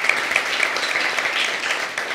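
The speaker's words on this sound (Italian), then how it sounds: "un applauso Axel." Crowd at a club event gives a short, even burst of applause, dense and sustained for a couple of seconds with no clear speech.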